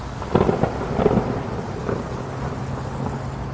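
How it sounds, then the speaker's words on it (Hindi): Cartoon thunderstorm rumbling through a forest, with a few heavy thunder swells early on and a steady low roar of storm and wind underneath for the rest. "बहुत तेज तूफान आने लगता है।"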